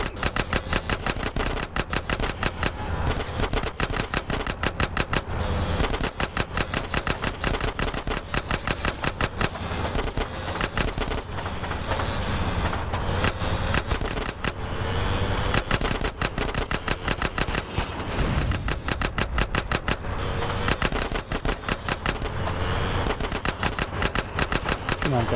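Rapid bursts of gunfire crackle from a moving car in GTA San Andreas, loud sustained automatic volleys with short gaps, going on throughout over a low rumble.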